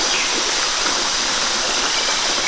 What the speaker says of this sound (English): I hear a waterfall this way.